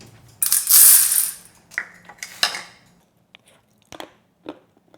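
Close crunching of crisp Korean pressed cookies (dasik), several irregular bites and crackles, loudest at first and then tapering into sparse, softer crunches.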